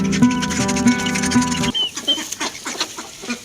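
Hens and chicks on a small home farm clucking while being fed green fodder, a steady chorus of close, overlapping clucks and chirps.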